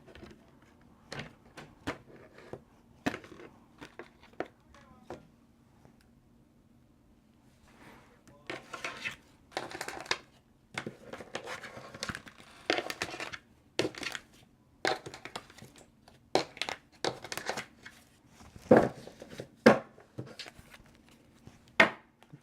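Reading cards are cut and shuffled on a table as a quiet, irregular run of sharp taps and snaps, sparse at first and then denser, with soft speech in the background.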